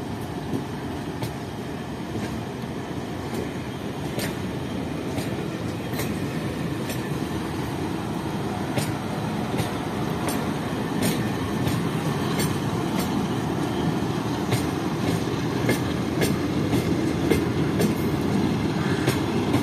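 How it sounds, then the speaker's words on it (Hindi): The Jinnah Express train pulls out of Mali railway station, a loud continuous rumble of wheels on track with regular clickety-clack beats and faint squeals, steady and close throughout, with no talk. "और ये जिना एक्सप्रेस मली रेलवे स्टेशन पर रुक गई है, लेकिन रुकते ही चल भी गई है।"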